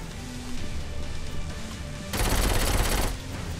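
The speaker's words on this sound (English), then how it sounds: "I can hear the noises, but I didn't see the guns." A burst of dense, rapid gunfire in the open-world action game Saints Row 4 erupts for about a second amid steady background game noise, with no talking.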